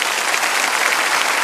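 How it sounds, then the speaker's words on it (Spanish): A church congregation applauding, dense and loud clapping that fills the space evenly from start to finish. "Un fuerte aplauso."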